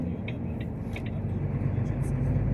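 A loaded 23-tonne truck pulls away slowly on a national road, its engine a low steady drone with faint creaks and light mechanical ticks over the top.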